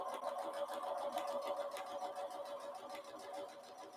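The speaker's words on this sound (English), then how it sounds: "So we're just going to sew right along this edge." A sewing machine stitches a quarter-inch seam along the edge of quilt pieces, a steady, rapid mechanical whirring with a fast regular needle rhythm, heard close and fairly quiet, with no talking.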